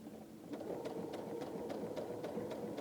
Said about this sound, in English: I'm just going to stitch right on that line.